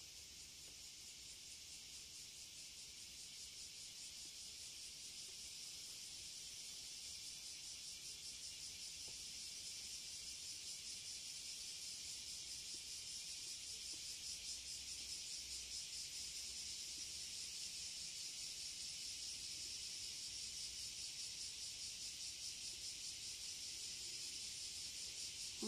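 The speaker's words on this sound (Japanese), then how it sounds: "ほんとセミの声がもう響いて、" A dense, continuous chorus of cicadas buzzes steadily throughout, loud and unbroken, with no voices.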